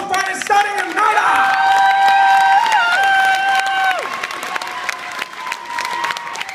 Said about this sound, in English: round of applause for both fighters, Sonny and Nada!